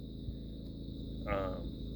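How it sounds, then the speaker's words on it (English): A faint, steady drone of crickets chirping in the distance on a quiet night by a lake, with a brief soft rustle midway. "Nothing but crickets."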